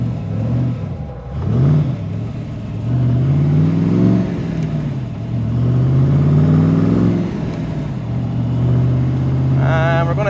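A 1965 Factory Five Shelby Cobra pulls away in first gear, its engine note rising loud and close through a couple of climbing revs before settling into a steady drone, with a brief shift near the end.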